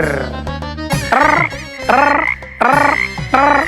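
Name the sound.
frog croaking sound effect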